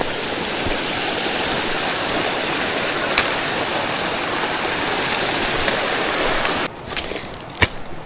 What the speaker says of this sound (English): I think we got a little small creek to cross here.